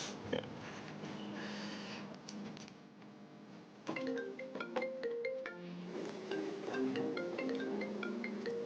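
A phone ringtone plays a repeating electronic melody indoors in an Indonesian TV drama, fairly quiet, with a brief pause before the tune resumes and no talk over it.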